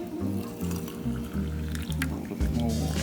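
Water poured into a glass jar while making basil tea, a continuous trickling fill with a faint steady hum underneath, fairly close.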